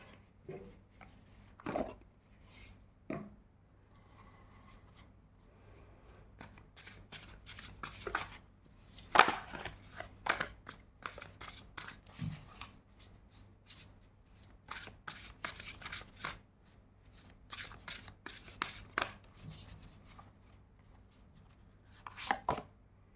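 Playing cards are shuffled and drawn in a quiet room, with soft riffling and rapid papery flicks that build into dense bursts and then thin out to occasional single snaps, with no voices.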